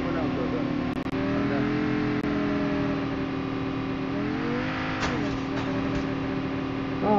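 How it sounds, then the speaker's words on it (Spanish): Motorbike engine in Call of Duty Mobile, a steady revving drone that rises in pitch midway, with the player talking over it throughout. "Y acá tenés una moto"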